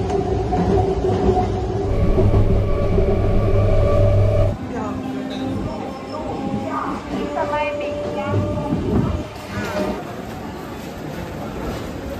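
Trains and station bustle at Sealdah railway station in Kolkata at night, a steady low rumble with tonal hums, shifting midway to busier clatter and murmur while people talk nearby throughout.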